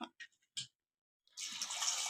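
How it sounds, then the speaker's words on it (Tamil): A few faint knocks and clicks come first, then after a short pause a steady, close rush of water pours into a pressure cooker holding peeled jackfruit seeds. "இப்போ தண்ணி ஊற்றிக்கலாம்."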